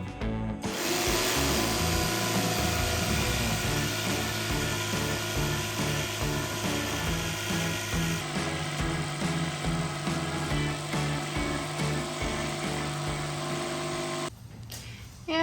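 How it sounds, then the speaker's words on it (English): A jigsaw cuts a sink hole in a wooden cabinet for a Ram ProMaster camper van build, its loud continuous buzzing blade running steadily for about fourteen seconds before stopping abruptly. "I'm going to use my jigsaw to cut out the sinkhole."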